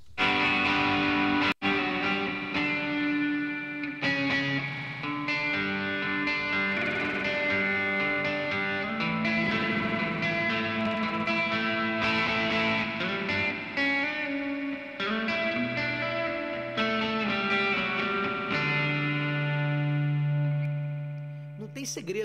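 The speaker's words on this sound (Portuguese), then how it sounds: "Aquele som realmente clássico do reverb de mola, muito bonito" A free spring reverb plugin, the Hornet Molla, washes over a dense, sustained guitar-like passage, giving it a wobbly, springy tail that rings and smears the notes, continuous and loud throughout.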